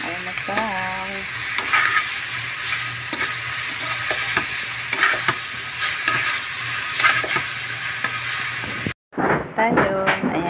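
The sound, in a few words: garlic fried rice frying in a pan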